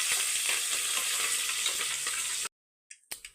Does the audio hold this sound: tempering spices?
yes